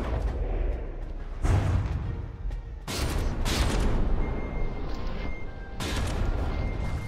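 Naval guns fire from a warship in From the Depths, a broadband roar with several heavy blasts in quick bursts and long crackling decays, loud and close with no talk.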